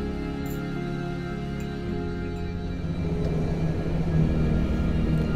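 A Dash 8 Q400 turboprop idles after start-up in the X-Plane 11 flight simulator, giving a continuous droning engine rumble with a steady tonal hum that swells slightly toward the end.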